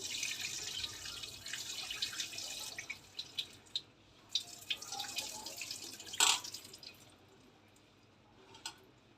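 Excess water draining off goat blood being prepared for curry, a soft steady trickle and hiss with a few scattered drips and a sharper splash near the end, faint and close with no voices.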